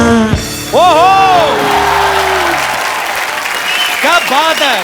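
The studio audience of the Kapil Sharma Show, a comedy talk show, claps loudly and steadily, with whoops and shouting voices rising over the applause throughout.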